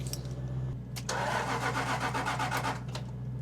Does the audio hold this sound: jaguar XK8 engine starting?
yes